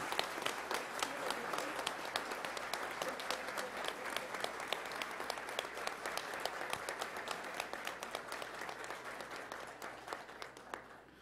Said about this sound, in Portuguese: saudemos o grupo com a mais extraordinária salva de palmas